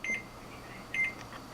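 A kitchen microwave heating crushed Oreo truffle mixture gives two short electronic beeps about a second apart over a low steady hum.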